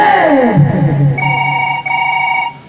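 A mobile phone rings while calling a doctor, two steady electronic tone bursts following a brief sliding vocal sound.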